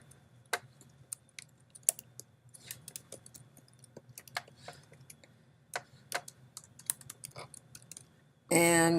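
Typing on a computer keyboard, sharp irregular key clicks scattered over a quiet room hum, ending in a sudden loud burst of noise.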